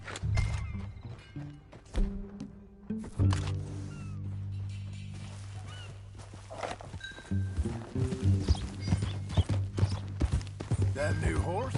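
Horse hooves clip-clop at a steady walking pace in Red Dead Redemption 2, alongside music and occasional voices, with other ambient game sounds mixed in.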